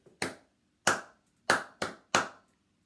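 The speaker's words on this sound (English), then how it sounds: "So, clap this together whenever I clap a rhythm." Sharp, close hand claps ring out in a simple rhythm game during a virtual singing session, five distinct claps with a short pause after the first, each crisp and isolated against silence.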